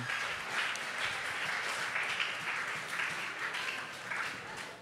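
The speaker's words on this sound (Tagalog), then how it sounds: "pwede ba nating bigyan pa ng isang malakas na palakpak ang atin pong Panginoon" A congregation at a worship service applauds, a steady, even rush of many hands clapping at moderate volume across the whole moment.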